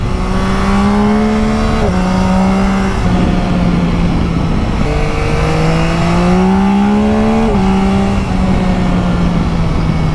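A Yamaha Tracer 9 GT motorcycle is ridden with its quickshifter. The loud, close engine drone rises steadily and then drops in pitch at a few quick gear changes, upshifts and downshifts, with a constant roar throughout.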